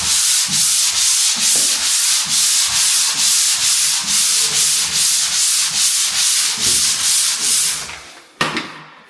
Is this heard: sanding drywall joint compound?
yes